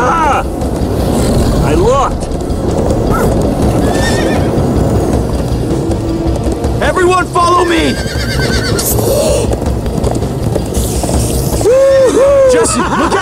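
Horses whinny repeatedly and hooves pound at a gallop throughout a Minecraft Story Mode chase, with frantic voices shouting over the loud, continuous action.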